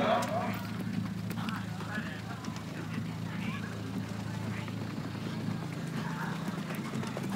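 An Icelandic horse, Ísir frá Breiðstöðum, trots past at a breeding show, its hooves beating a steady clip-clop throughout while a commentator talks over it.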